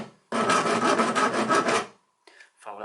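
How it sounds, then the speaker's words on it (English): A fine-grade metal file rasps steadily across steel on a bicycle shifter part, loud and close, in one continuous run of strokes lasting under two seconds, then stops and gives way to faint handling noises. "we've got like a fine grade metal file on there, and we're just going to basically file that away"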